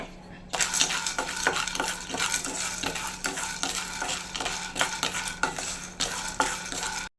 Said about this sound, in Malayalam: കപ്പലണ്ടി ഒന്ന് നമുക്ക് വറുത്തെടുക്കാം